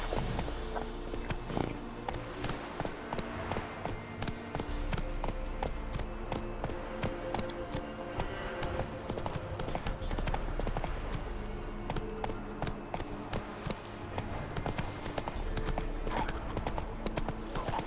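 In The Witcher 3, the horse Roach trots along with a steady, rhythmic clip-clop of hooves that persists throughout, over game ambience and occasional faint voices.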